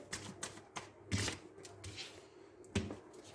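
Tarot cards being shuffled by hand, with a few brisk papery riffles and card flutters, loudest bursts near the start and toward the end, close up with no talking.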